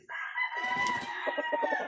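A single rooster crows loudly and close by, a drawn-out call ending in a series of rapid pulsing notes.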